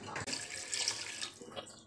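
Water from a glass pours into a cooking pot of potatoes being boiled soft for vegetable matar pulao, a steady close splashing stream with no talk.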